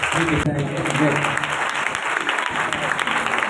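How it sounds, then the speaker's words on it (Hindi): A crowd at a church service applauds loudly and steadily, the clapping sustained across the whole stretch with a voice briefly heard beneath it. "जोर से तालियां चाहिए।"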